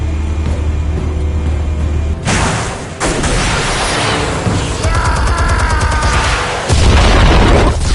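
Several heavy detonations of explosives in the Batman Telltale game, loud and booming, with rumbling debris and crackling effects between the blasts and no talking.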